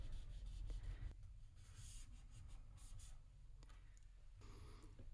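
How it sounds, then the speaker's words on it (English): Rubbing and scraping as an applicator tool presses a privacy screen protector onto a Samsung S22 Ultra phone, a close, steady friction sound running throughout. "Just rub a little bit here, just to kind of stick the screen protector there."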